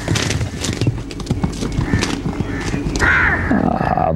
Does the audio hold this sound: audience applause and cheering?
no